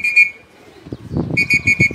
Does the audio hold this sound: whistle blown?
yes